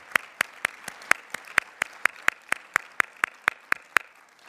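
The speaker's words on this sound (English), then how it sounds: "we'll pause for applause" A small audience at a charity fundraising gala claps steadily for event sponsors, about eighteen sharp, evenly spaced claps that sound like a handful of people applauding, close and clear with no talk.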